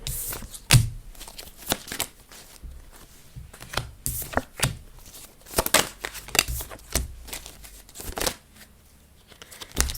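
Tarot cards shuffled close by in quick bursts of papery slaps and riffles, with uneven gaps between handfuls and no voices.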